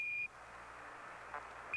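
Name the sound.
Apollo 11 lunar module 1201 program alarm beep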